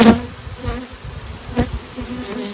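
A dense mass of honey bees hums loudly and steadily among hive frames in a small swarm, a close, continuous buzzing drone with slight swells in intensity.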